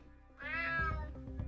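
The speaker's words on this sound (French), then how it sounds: "Damn cat." A cat meows once in the video game UnMetal: a clear, drawn-out, rising and falling cry lasting about a second, close and alone over low game ambience.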